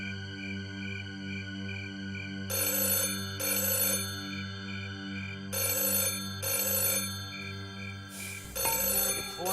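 Telephone ringing in a Hindi TV serial, bursts of bright electronic ringtone repeating in a steady on-off pattern over a constant tonal background, with no talking.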